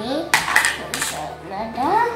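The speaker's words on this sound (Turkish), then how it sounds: "Tabaklar. Sonra çatal, bıçak. Bak çatal geldi elime." Toy plates and cutlery from a play-dough ice cream factory set are handled, clattering in two or three short, bright bursts of plastic knocks close by, with a child's or adult's voice faintly in between.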